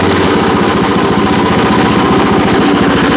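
A WEIMA WM900M-3 walk-behind tractor's small engine runs loud and close, a steady throbbing drone after starting as the revs come up, with no voices over it.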